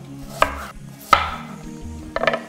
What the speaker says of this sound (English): like to chop the onions nice and evenly, as well as your peppers